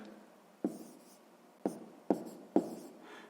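Pen or marker writing numbers by hand for a sixth-grade math exercise, heard as four sharp tapping strokes with scratchy trails, close and quiet, with no voice.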